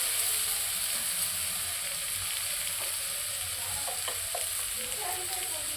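Ginger-garlic paste sizzles in hot oil in a frying pan while a fish curry is being cooked, a steady crackling hiss with a few sharp pops and stirring clinks, close and continuous, with no talking.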